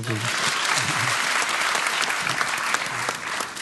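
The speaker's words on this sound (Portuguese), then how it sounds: "Aplausos para a banda, sim." An audience at a Todo Mundo Canta concert in the Netherlands applauds the band, a dense, steady wash of clapping filling the whole stretch, with faint voices mixed in.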